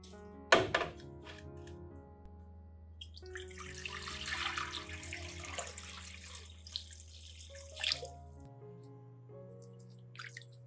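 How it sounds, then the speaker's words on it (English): Clean running water rinses an orchid's remaining stem and leaf, with a steady trickle and small drips, a sharp knock near the start and splashier moments midway. "Next, I gently rinse the remaining stem and leaf with clean water."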